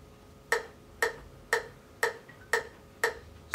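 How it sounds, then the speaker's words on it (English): A metronome ticks quickly and evenly, sharp clicks about twice a second, close and fairly quiet against a soft background. "There, so I'll let you hear the metronome."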